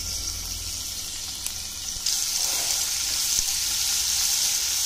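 Crushed garlic fries in hot oil in a pan, a soft, steady close sizzle that grows a little louder partway through, with no one speaking.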